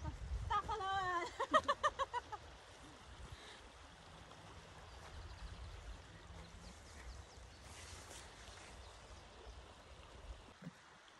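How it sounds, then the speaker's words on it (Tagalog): A river stream flows with a soft, continuous rushing wash that stays faint throughout. Brief voices sound near the start. "Ganda ng river ba to? Sapa."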